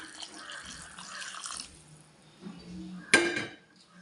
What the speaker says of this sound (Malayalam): നമുക്കിതിലേക്ക് കുറച്ച് ചൂടുവെള്ളം കൂടെ ഒഴിച്ചു കൊടുക്കാം